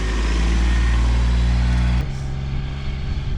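A tractor engine runs in a field while rowing up for baling, a loud low rumble that drops slightly partway through and keeps droning without speech.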